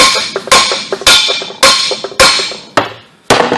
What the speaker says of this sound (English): I'm going to use a lighter hammer so I don't get too carried away.